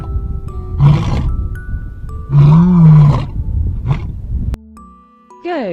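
A lion roars in two loud bursts, with a shorter grunt after them, over a backing of music. A descending whoosh follows at the end. No one speaks.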